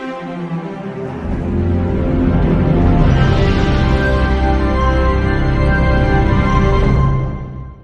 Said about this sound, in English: Its fanfare of New Line Cinema sounds like this.